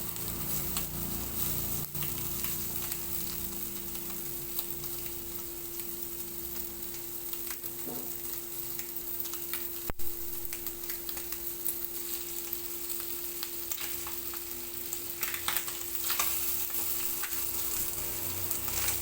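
Kerala-style fish frying in a pan over a low gas flame, a long, even close sizzle and crackle of oil with faint occasional stirring.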